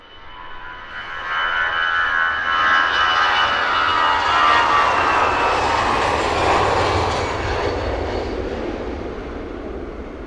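Airplane engine at Luton Airport, a loud roaring jet swelling up quickly and holding a broad rushing drone for several seconds before slowly easing, close and alone.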